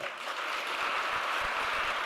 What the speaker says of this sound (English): please join me in giving them a massive round of applause